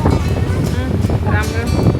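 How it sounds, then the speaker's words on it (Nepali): Strong wind buffets the microphone outdoors in Germany, a constant low rumbling roar that nearly swamps the voices of people talking beneath it. "हावा लागेर"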